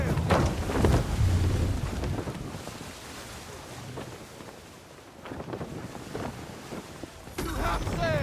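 A sailing ship at full sail in Assassin's Creed III, with rushing wind and sea wash swelling and easing across the scene, continuous and fairly loud, and a voice briefly speaking near the end.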